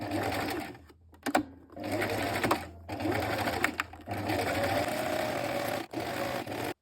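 Sewing machine sewing darts into a blouse in several long runs separated by short stops, a close, steady mechanical chatter of the needle and motor.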